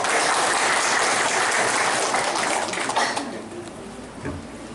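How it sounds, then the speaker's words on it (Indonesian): Audience applause at a ceremony for the anniversary of Banjar Darma Praja in West Lombok: dense, loud clapping that holds steady for about three seconds, then thins out and fades to scattered claps. "Mohon tepuk tangan"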